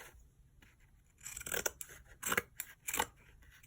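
Scissors trim the edges of a handmade country chic card display, giving a few crisp snips in quick succession through card stock, close up and without talk.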